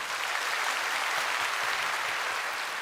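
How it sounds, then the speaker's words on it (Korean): A church congregation at a Sunday worship service claps in blessing, producing dense, steady applause that fills the whole stretch without pause and with no talking over it. "우리 인사하실 때 박수로 축복해 주시기 바랍니다"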